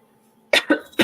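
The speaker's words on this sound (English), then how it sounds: "I'm going to cough now" Three short, sharp coughs in quick succession, close and clear, after a moment of near silence.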